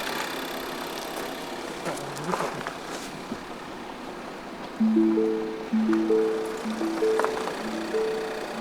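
A 2017 Lincoln MKC engine idles with a steady low rumble throughout, and a few louder tonal bursts sound over it in the second half.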